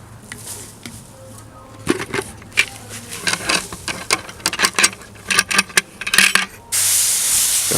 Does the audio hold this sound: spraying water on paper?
yes